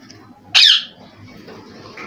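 A bird in a small home aviary of newly arrived pigeons gives a single sharp, loud squawk close by, over faint background noise.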